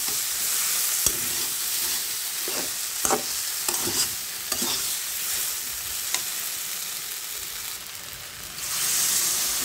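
Water poured into a pan of frying masala sets off a steady loud sizzle, with a spoon scraping and stirring in intermittent knocks through the hiss and a surge of steam near the end.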